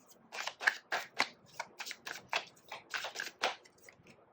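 Tarot cards drawn from a deck and handled, giving a quick series of close, crisp flicks and slides with brief pauses between them, heard alone without talk.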